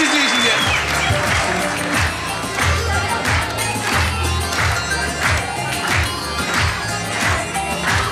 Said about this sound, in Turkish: Alkışlıyoruz kayınvalidemizi.